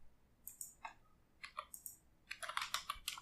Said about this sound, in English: Just type some text here.